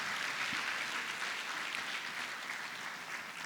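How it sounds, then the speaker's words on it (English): Brief, steady applause from a gathered audience welcoming the Lagos State governor, a dense wash of clapping without talk over it. "please welcome my governor with a round of applause"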